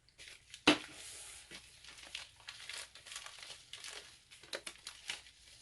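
Packing tape pulled and pressed down over the tabs of a shipping package: one sharp tape rip near the start, then soft crinkling and rubbing of tape and paper, close and quiet.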